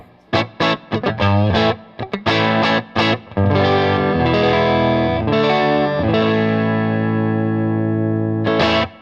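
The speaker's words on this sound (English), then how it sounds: "Going into a Milkman 10-watt pint, which is a 6v6 tube amp." Fender Vintera II Road Worn 60s Stratocaster through a Milkman 10-watt 6V6 tube amp, slight overdrive, a run of short plucked notes followed by sustained ringing chords, loud and close, no voices.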